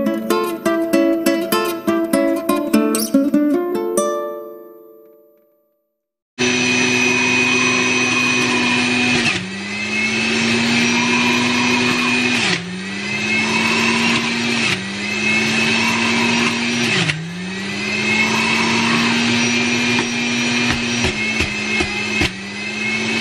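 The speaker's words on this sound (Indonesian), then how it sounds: "nanti mau masukin ke dalam juicer. Tinggal ambil airnya" After a short stretch of music, an electric juicer whirs loud and close while cut red and green apples are pushed in, its motor pitch dipping and recovering with each piece in a repeated labored pattern.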